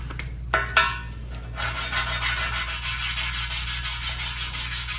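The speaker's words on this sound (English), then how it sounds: "I'm just going to take a piece of emery cloth and put the striations on them straight, left and right." Emery cloth rubs back and forth over a metal gib for a Craftsman 109 lathe, a steady rhythmic scratchy sanding with regular strokes about twice a second, close and moderately loud after a couple of brief knocks.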